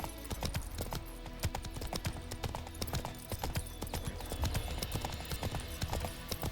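Horse hooves in The Witcher 3 video game, a continuous rhythmic clip-clop of trotting steps, soft and fairly distant against a background din, with no talk.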